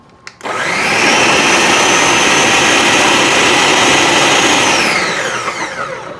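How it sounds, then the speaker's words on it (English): A blender on its puree setting whirs up after a click and roars loud and steady for several seconds, then winds down at the end. "Now I can hit the puree button"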